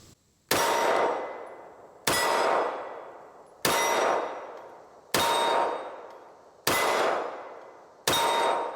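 Six loud pistol shots from a S&W Bodyguard 2.0 Carry Comp fired at a target about 8 yards away, evenly spaced about every second and a half, each a sharp crack with a ringing decay, no talking.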